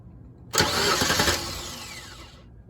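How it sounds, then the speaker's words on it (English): Starter on a 2002 Ford Ranger cranks the engine in one loud burst of about a second, with rapid rhythmic turning pulses, then winds down into a fading whine. "that cranks, so our starter is working good now"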